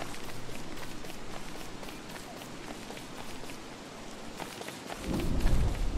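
Steady rain in the game Don't Starve patters in a soft, continuous hiss, with a low rumble swelling near the end.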